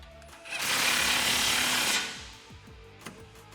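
A power tool whirs with a loud buzzing burst lasting about a second and a half while tightening a 14mm nut on a stainless steel oval bull bar on a 2016-2019 Tacoma, followed by light clicks.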